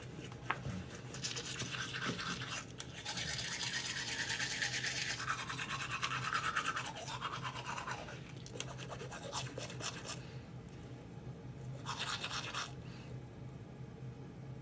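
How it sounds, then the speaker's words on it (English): Close-up toothbrush scrubbing teeth with Sensodyne Pro Enamel toothpaste, a steady wet rasping that runs almost without pause, with short breaks and bursts of brisker strokes. "We're starting off brushing our teeth using Sensodyne"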